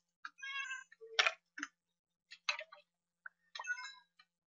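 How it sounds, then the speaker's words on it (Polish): A cat in the video game Minecraft meows in several short, clear, synthetic calls spaced across the moment, mixed with brief clicky game sounds against silence. "O, jest kotek."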